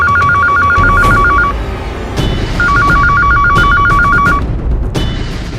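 A telephone bell rings loudly in two long electronic trilling bursts separated by a short pause, close by over a low background hum, with no one speaking.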